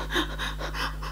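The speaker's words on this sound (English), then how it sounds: "I am like deep breathing." Deep, heavy breathing from someone crying, a few slow panting inhales and exhales close to the mic in a quiet room with a steady low hum.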